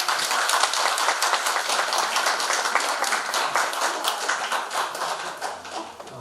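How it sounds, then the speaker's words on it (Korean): A church congregation claps in welcome for a guest during a New Year's worship service, a brisk, close patter of many hands that continues steadily for several seconds and thins slightly near the end. "우리 환영하는 박수 한번 하실래요?"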